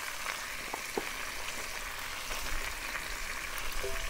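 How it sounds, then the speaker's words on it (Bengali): Sliced radish, ridge gourd and pumpkin frying together in oil for a Bengali navratna dish, a faint, steady crackling sizzle with a few soft spatula taps. "এগুলো একসঙ্গে আমি ভেজে নিচ্ছি।"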